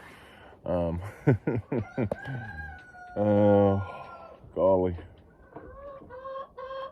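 Several chickens cluck in short bursts, with a rooster crowing loudly in the middle; a man's brief exclamation comes near the start.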